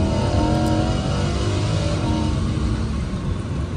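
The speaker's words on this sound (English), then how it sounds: "let's get on down the road onto the highway as we drive this Lamborghini Huracan in sport mode" A Lamborghini Huracan Evo in sport mode on the way onto a highway. Its engine roars loud and steady with a rough, throaty revving during a downshift, and the sound stays constant throughout with no talk.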